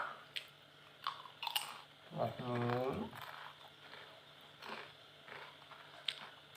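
Crispy fried potato chips from a convenience store crunch in a brief close burst of chewing, with quieter bites and mouth sounds around it and someone talking in between.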